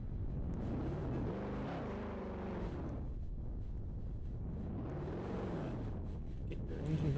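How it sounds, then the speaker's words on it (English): A steady engine drone fills the whole stretch, its pitch rising and falling in slow sweeps like a car passing or revving nearby, with wind rumble underneath. "Get your engine noise out of here."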